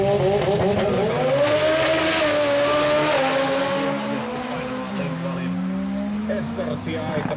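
Rally cars, a Ford Escort and a BMW 2002, race past on a circuit with loud rising engine notes and tire squeal, sweeping by close and fading slightly, while a commentator talks over the racing.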